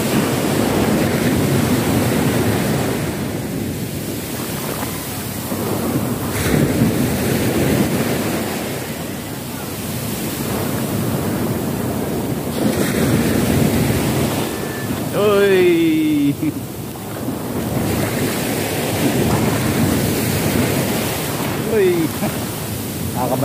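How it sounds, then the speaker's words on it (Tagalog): Strong, high sea waves crash on a beach in a continuous loud roar with surging swells and wind buffeting the microphone, while voices briefly call out over the surf. "Kahit nandito ka lang sa gilid mababasa ka rin pala tingnan mo, lakas ang taas ng alon."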